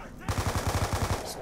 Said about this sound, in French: Je vais prendre le MP5K.